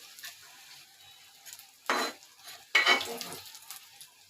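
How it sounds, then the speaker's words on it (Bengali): Fried small mola fish lifted out of a frying pan, quiet intermittent scraping and clinking of a utensil against the pan with faint sizzling in a few short bursts, no talking. "আমার মাছগুলো এখন ভাজা হয়ে গেছে, এখন আমি তুলে নিচ্ছি"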